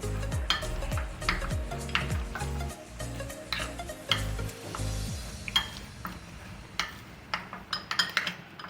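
Raw chicken pieces are mixed with salt, chicken powder and black pepper for nuggets, giving close, wet squelching and stirring with clinks and taps against a bowl, busy at first and then thinning to scattered knocks.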